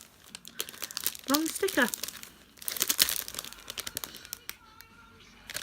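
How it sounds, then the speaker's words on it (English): A plastic packet of body scrub is crinkled and torn open from a cosmetics subscription box, with bursts of sharp crackling and rustling. A person speaks briefly over the handling. "So just trying to get out the packet."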